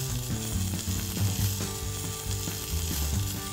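Potatoes and bacon fry in oiled individual portion pans, making a loud, steady sizzle that continues throughout, with tonal, music-like sounds over it.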